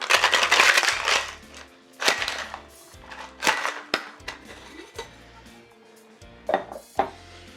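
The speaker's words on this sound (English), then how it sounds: "Give it a good pound and give it a good shake." Cocktail shaker with ice being shaken while making a Buzzword cocktail, irregular bursts of rattling, crunching ice clatter separated by short quieter gaps, close and loud.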